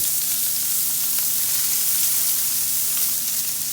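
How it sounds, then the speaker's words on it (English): A burger patty sizzles steadily in hot fat while it is basted with Italian seasoning and garlic. The frying hiss is loud, close and constant, with small crackles and pops and no talking. "As you can see, I'm going to start basting."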